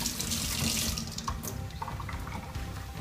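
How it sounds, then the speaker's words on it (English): Tap water runs steadily into a sink while a lemon is rinsed under it, a close, continuous splashing wash that shifts slightly as the fruit moves through the stream, with no voices. "Probably rinse the lemon as well."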